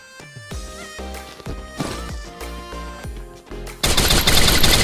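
Gunfire from the Free Fire battle-royale game rings out in several loud, close bursts with ringing tails, ending in a dense, noisy rush of sound.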